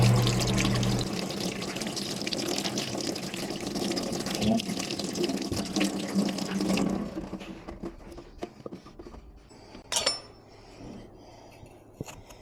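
Tap water runs steadily into a sink while vegetables are washed for tuna balls, a loud splashing flow for about seven seconds that then stops, followed by scattered knocks and clinks of produce and utensils.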